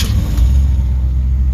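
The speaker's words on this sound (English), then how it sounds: "So we're going to start up the shoebox." A 1951 Ford shoebox car engine on a cold start, a loud, close, deep rumble that runs steadily for a brief moment with no other sounds.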